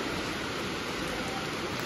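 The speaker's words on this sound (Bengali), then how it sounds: "আর এদিকে দেখুন প্রচণ্ড জোরে বৃষ্টি নেমে গেছে।" Heavy rain pours down in a dense, unbroken hiss that stays steady and loud throughout, with no voices.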